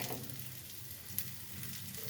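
Rice grains frying in a pan over a medium flame with salt and turmeric added, giving a faint, steady sizzle with a single small tap partway through and no talking.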